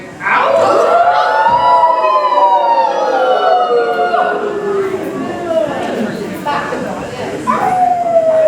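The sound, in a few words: voices imitating dog howling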